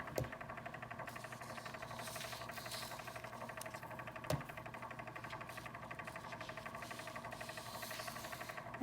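A small cup turner motor spinning an epoxy-coated tumbler, giving a faint, steady mechanical whir with a rapid fine rattle and two brief knocks.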